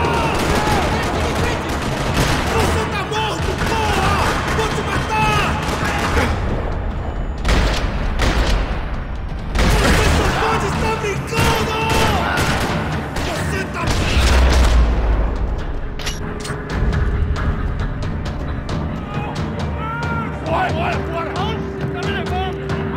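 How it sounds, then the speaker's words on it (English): Bursts of gunfire and booming blasts crackle through a busy, noisy Max Payne 3 battle scene in a parking lot, with voices speaking over the rattling shots. "Another parking lot rattling with gunfire."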